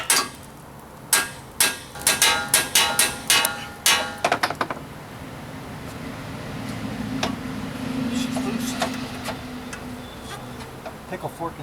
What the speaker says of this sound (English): So just give that a whack with the pickle fork.